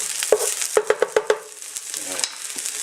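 Onions fry in a pan with a little olive oil, pushed aside with a utensil: a run of five quick scraping knocks over a continuous sizzle, then softer stirring noises.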